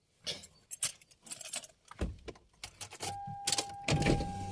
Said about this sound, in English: Give me the car key, Joe.